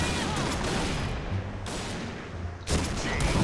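Rapid automatic gunfire from the online shooter game Point Blank, dense loud bursts of shots that fill the whole moment, with a brief lull before the firing resumes.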